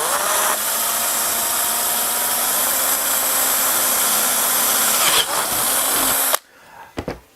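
A power drill bores a hole in wood for a dowel pivot on a handmade trophy, a loud steady whine running for about six seconds before cutting off abruptly, followed by a couple of faint handling knocks.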